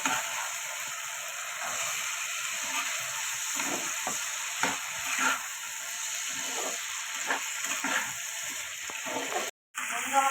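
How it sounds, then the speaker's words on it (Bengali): Green peas with Kashmiri chilli powder and black pepper sizzle steadily in a pan for Bengali vegetarian ghugni, a continuous frying hiss with scattered stirring scrapes and clinks throughout. "মটর দিয়ে কষানো হয়ে গেছে"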